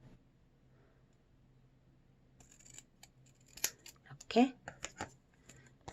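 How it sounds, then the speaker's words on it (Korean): Scissors cut colored origami paper in a few quick close snips and crisp paper rustles following a quiet stretch, with faint low hum in the background. "얘, 얘도 아래쪽을 조금만 잘라주세요"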